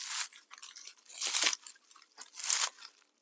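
Potting material pressed tight into a pot crunches in three close, gritty bursts, each a short crackling squeeze with quiet gaps between.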